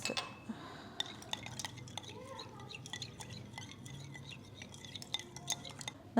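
A water, detergent and salt reagent is stirred in a container, producing soft scraping and light clinking taps of a utensil against the vessel, quiet and close, with no speech.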